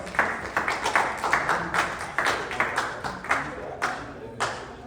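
A small group claps in scattered, fairly rhythmic bursts of applause after a demonstration speech, with a few voices faintly underneath.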